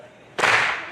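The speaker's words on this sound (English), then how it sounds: "here comes the first whip crack of the show" A single sharp, loud whip crack splits the air at a live whip show, rising suddenly out of near quiet and leaving a brief wash of crowd noise behind it.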